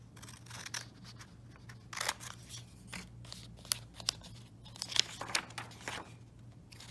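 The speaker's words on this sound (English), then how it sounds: "Okay, so you can see I'm cutting along the solid lines." Scissors snip through paper along solid lines in a close, quiet series of irregular cuts, with small crinkling sounds between the snips.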